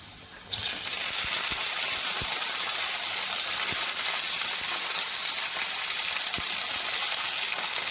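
Cluster beans (guar) dropped into hot oil with browned garlic start a sudden loud sizzle that settles into a steady frying hiss in the pan, with a few faint clicks.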